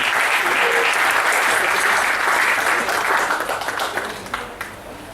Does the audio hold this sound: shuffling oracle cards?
no